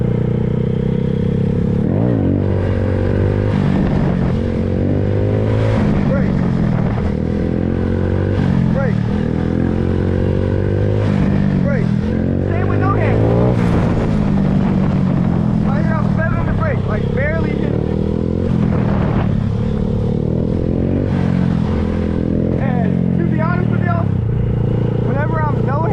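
A Honda Grom motorcycle engine revs and bogs in repeated surges during wheelies, close and loud from the rider's position, with someone talking over the engine throughout.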